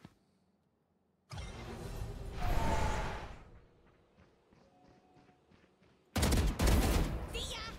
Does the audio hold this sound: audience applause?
no